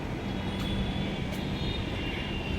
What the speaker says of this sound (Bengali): এখন একটু হালকা হালকা আওয়াজ শুনতেছি বিমানের